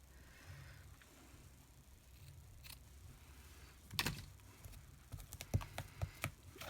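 Cardstock layer being trimmed for a handmade card: a few soft, close clicks and snips, sparse and irregular, over a quiet room hush with no talking.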